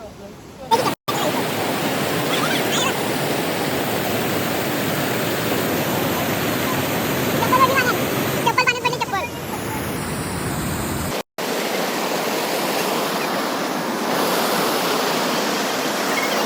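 Water pouring down at a dam, a loud continuous roar of broad rushing noise that fills the whole scene, with people talking faintly over it and a couple of brief dropouts.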